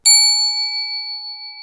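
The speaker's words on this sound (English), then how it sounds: "And now follows an advert about bells." A single bright bell ding struck once, ringing clearly with a long, slowly fading metallic tone, alone with no other sound.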